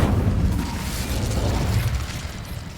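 Incendio fire spell in Hogwarts Legacy, a loud continuous roaring, crackling burst of flame with heavy low rumble lasting several seconds, no voices.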